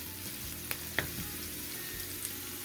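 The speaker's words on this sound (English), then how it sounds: "Now as those finish sauteing" Peppers and green onions sauté in a hot pan with a steady soft sizzle and a few faint clinks, close and alone without talking.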